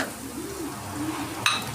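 Sliced onion sautéing in a pan for a restaurant-style tomato chutney gives a steady soft sizzle, with a brief sharp clink of a utensil near the end.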